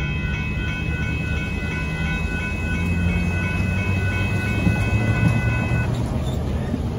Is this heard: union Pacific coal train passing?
yes